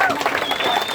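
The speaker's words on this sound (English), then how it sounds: "please, one more time, big round of applause for" Audience applause at an event hosted at Bracken Rocks, a dense burst of clapping with crowd noise, loud and close, heard alongside a voice speaking.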